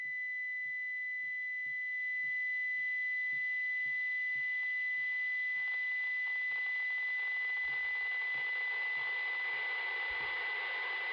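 A Baofeng UV-5R handheld radio receiving a weak signal: a steady high tone sits over rising hiss and background noise, with a faint periodic ticking pulse underneath, no voices.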